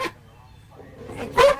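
A man imitates a dog, giving a brief, gruff bark-like burst near the end after a short vocal sound and a quiet pause.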